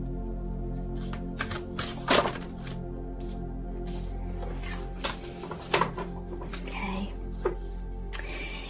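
Tarot message cards are shuffled close up: a series of soft papery riffles and sharp snaps at irregular moments, with a faint steady hum beneath.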